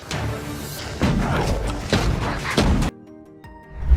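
Bolivian celebratory mugs fired with fuses, heavy booming bangs in quick succession, loud and close, each blast ringing out before a brief quieter gap and another thump at the end.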